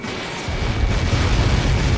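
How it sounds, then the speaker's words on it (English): A video-game explosion on impact in Ace Combat 7, a deep rumbling boom that swells after a brief quiet start and keeps roaring loudly through to the end. "How many got caught in that explosion?"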